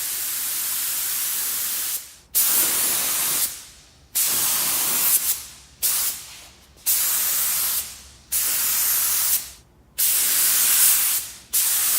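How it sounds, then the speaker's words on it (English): A spray gun lays base coat onto a plastic car bumper cover in repeated loud, close hissing passes of about one to two seconds each, separated by short silent gaps between strokes. "we're ready to start applying our base coat, and we're going to do 3 medium coats"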